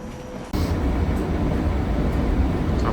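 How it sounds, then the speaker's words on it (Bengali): A Valley Line LRT light rail train in Edmonton rumbles loudly and steadily after a quieter start, with a sudden jump in low, rushing motion noise as it gets underway. "This is a Valley Line train to Millwood."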